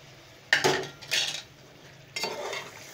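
A spoon scrapes and clinks against a pot as marinated boneless beef is stirred into softened tomatoes and onions, three separate bursts of stirring over a faint low sizzle, with no voices.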